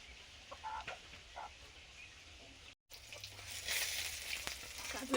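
Katla fish fries in oil with a faint, low hiss that stops in a brief cut, then returns as a fuller, brighter sizzle.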